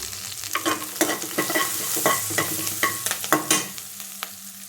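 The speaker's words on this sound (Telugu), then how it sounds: "బీన్స్ ఫ్రై ఇలా సిమ్లో పెట్టుకొని ఫ్రై చేసుకోవాలన్నమాట" Green beans fry with curry leaves and turmeric in a pan on a low flame, a loud, close, steady sizzle broken by rhythmic spatula scrapes about every half second, with no voices.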